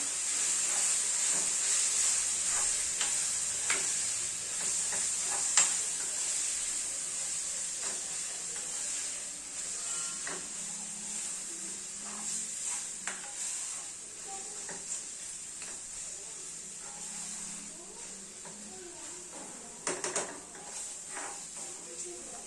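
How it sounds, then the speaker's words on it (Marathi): A spiced eggplant bharit mixture with onion and tomato sizzles in a pan. A steady hiss runs under intermittent scrapes and clinks of stirring, with a voice talking over it at times. "सारे मसाले मी घातलेले आहेत. आता हे मी मिक्स करते."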